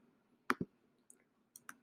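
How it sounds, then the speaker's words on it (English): A few scattered, faint keystrokes tap on a computer keyboard in a quiet room, irregular and sparse rather than continuous typing. "because I'm going to be typing a bit more"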